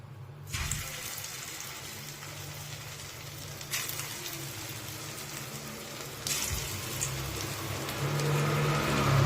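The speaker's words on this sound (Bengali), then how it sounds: "এবার আমি কোপ্তাগুলো ভেজে নেব। তেল গরম হয়ে গেছে, এবার দিয়ে দেবো।" Soybean koftas fry in hot oil in a wok over a low flame, giving a steady, close crackling sizzle that starts abruptly and swells twice more as further pieces go in, with no talking.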